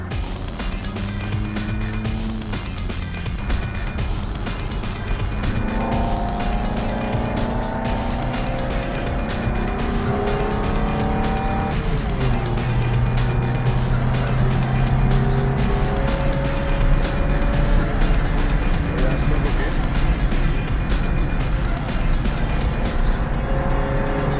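A Ferrari F430 sports car is driven on a road, its engine droning steadily and loud throughout, with the pitch climbing and dropping through several gear changes.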